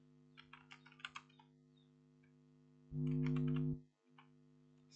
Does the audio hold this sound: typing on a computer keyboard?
yes